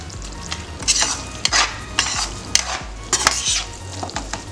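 Dry fruits frying in wheat flour for Punjabi panjiri, stirred in a pan with repeated bursts of scraping and sizzle over a steady low hum, close and moderately loud.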